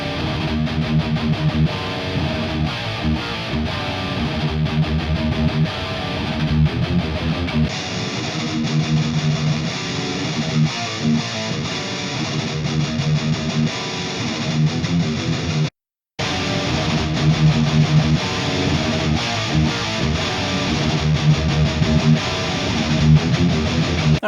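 Distorted electric guitar tones through ENGL Savage 120 Mark II and Mesa Boogie amps play continuously, thick and saturated, with a brief dropout near the middle before resuming at full volume.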